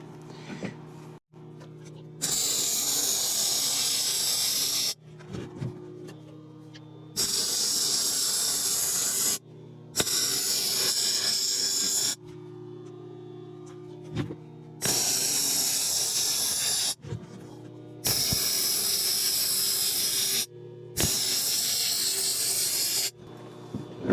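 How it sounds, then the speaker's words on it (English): Bursts of welding on a steel chainsaw sharpening seat being fixed to a Cord King M18-20 firewood processor, each a loud, close, steady crackling hiss lasting several seconds, separated by short quiet pauses, about six bursts in all. "So now we're going to weld this out."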